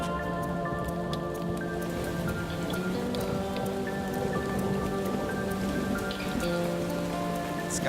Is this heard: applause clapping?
no